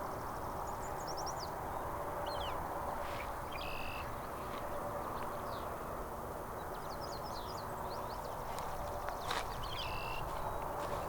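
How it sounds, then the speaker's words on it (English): Birds chirp and call intermittently in the distance over a steady roar of freeway traffic noise outdoors, heard from a boondocking site in North Dakota. "You can hear the birds."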